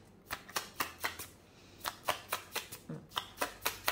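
Tarot cards are shuffled and drawn in a quick run of crisp riffling taps, two bursts of evenly spaced flicks separated by a short pause, close and without voices.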